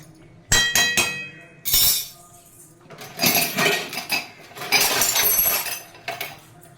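A metal lid is set onto a pot of upma on a kitchen stove, giving a few sharp clinks and rattles of metal and glass followed by scraping clatter, close and fairly loud, with no talk.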